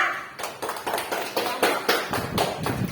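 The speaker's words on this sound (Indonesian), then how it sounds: "Tepuk tangan untuk kelompok pertama." Applause for the first group of pupils in a primary school Pancasila class, a run of rhythmic clapping from several hands, fairly close and steady with no talking over it.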